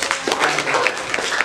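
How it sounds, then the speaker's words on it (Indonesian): Classroom applause for student presentation groups: a short burst of many hands clapping at close range, with a faint voice underneath. "Tepuk tangan untuk semua kelompok ya."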